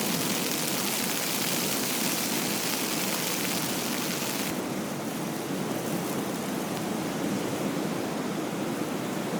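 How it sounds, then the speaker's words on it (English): Heavy rain and gusting wind on the West Coast Trail during a multi-day rainstorm, a loud, continuous broadband roar with no letup and no voices, as if heard from inside a tent. "I'm gonna have to get out in this rain and try and reinforce everything because the wind is picking up"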